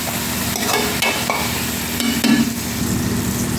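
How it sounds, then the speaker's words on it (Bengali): Onion and tomato frying in a pan are stirred with a spoon, a steady close sizzle with several scraping strokes of the spoon against the pan. "টমেটো দিয়ে এখন ভালো করে নেড়ে করে পেঁয়াজ টমেটোটা গলে গেলে"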